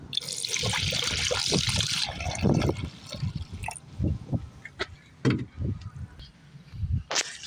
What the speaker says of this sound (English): put your coolant